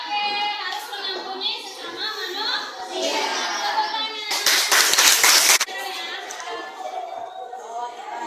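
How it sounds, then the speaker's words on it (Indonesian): Students at a junior high school class clapping hands together, a short loud burst of applause in the middle surrounded by children's chatter and talk in the room. "Tepuk tangan."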